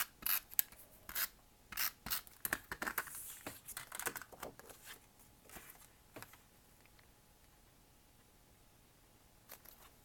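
A tape runner lays adhesive onto a handmade card with a rapid series of short dry rasping strokes through the first six seconds, then near quiet with one or two faint later scrapes.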